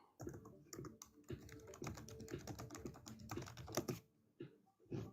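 Rapid, hard typing on a computer keyboard, dense clattering keystrokes in quick bursts with a brief pause near the end, close and quiet, no voices.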